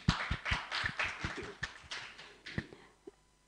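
Scattered, uneven claps from a small workshop audience at a 2022 academic conference in Bali, faint and sparse, fading out within a few seconds.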